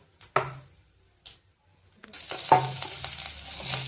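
A few soft kitchen clatters, then chopped onions hit a hot pan and sizzle loudly and steadily, with a stir partway through, while cooking Chettinad goat spleen chukka.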